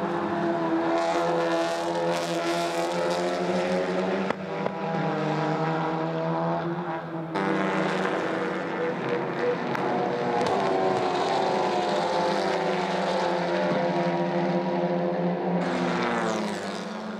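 Touring race cars, including a Volkswagen Golf, rush through the chicane at Spa circuit, a loud continuous engine roar with shifting pitch lasting throughout, layered by several cars close together.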